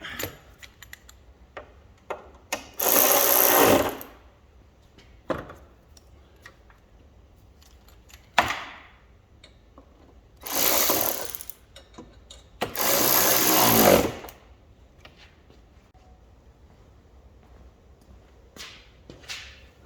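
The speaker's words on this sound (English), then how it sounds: "let me just line up those holes and tighten it up again" Bolts on an Alfa Romeo Giulia front bumper are tightened with a power tool in a few loud, second-long whirring bursts separated by quiet pauses and small clicks.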